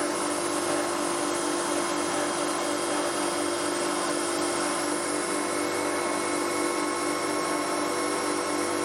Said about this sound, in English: I've got the drill set to run at 3000 RPM as well